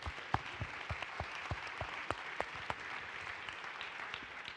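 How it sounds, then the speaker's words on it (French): A small audience at a women's forum applauds a speaker, giving light, scattered claps that are fairly faint and distant, with no voices. "merci de l'applaudir"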